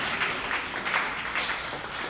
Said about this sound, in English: And Upasna also, who deserves a big standing applause.